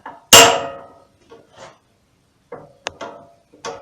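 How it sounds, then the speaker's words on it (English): Sharp hammer blows strike a hoop driver to tighten a hoop on a wooden bucket, several separate knocks with pauses between them, close and loud, with no voices. "a driver, hoop driver, and come in there and start it down and tighten it up as tight as you can get it."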